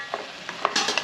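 Chickpea sundal tipped into a hot pan and stirred, giving soft scraping strokes and light sizzling bursts over a faint frying hiss, close and fairly quiet.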